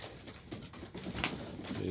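Soft pigeon cooing murmurs quietly in the background as the pigeons feed in freezing weather, faint and low, with light rustling and a single sharp click.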